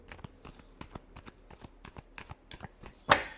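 Tarot cards being shuffled close up in quick crisp riffles, a string of light papery slaps in uneven rhythm ending in one louder snap.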